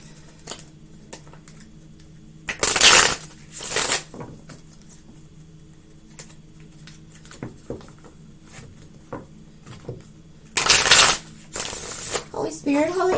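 Tarot cards being shuffled up close: two bursts of brisk riffling, each lasting about a second, then a second pair near the end, with soft handling noises between.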